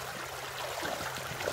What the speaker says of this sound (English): First time ever panning gold in a creek.